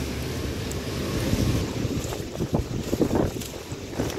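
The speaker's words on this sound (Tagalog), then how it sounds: "Ang lakas ng hangin" Strong wind buffeting the microphone outdoors in Chiang Mai, a near, loud, gusting rumble with brief irregular bursts.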